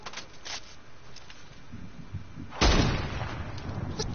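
Sniper rifle fire in a shooter video game: one sharp, loud gunshot bursts in partway through and trails into a rumbling decay, with quieter, muffled game noise before it and no voices.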